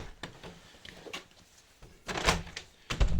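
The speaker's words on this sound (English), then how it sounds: "So what you'll find is when you close your door over" A uPVC front door swings shut and latches, giving a few close knocks and thuds, with a louder clunk and rattle near the end.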